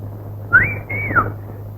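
A person whistles a short two-part tune in a police station, a rising note followed by a falling one, close and clear over a steady low hum.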